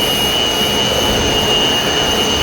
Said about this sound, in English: Fire up the motors, right?